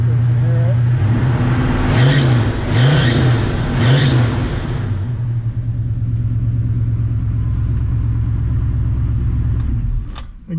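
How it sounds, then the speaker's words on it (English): A 1965 Pontiac GTO hardtop's V8 blips through three quick rising-and-falling revs, then settles into a deep, steady rumbling idle close by, with a voice briefly heard near the end. "Go ahead and rev up a little bit here so you can hear it."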